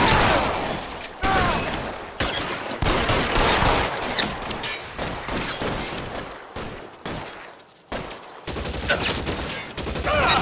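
Sustained gunfire from a shootout in a Cole Phelps LAPD detective video game, with dense rapid bursts and loud cracks running almost continuously, while a voice talks in the middle of the fight.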